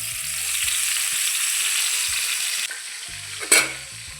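Curry leaves drop into hot oil in a pan, sending up a loud, close, steady sizzle, then a sharp crackling burst of spitting oil near the end.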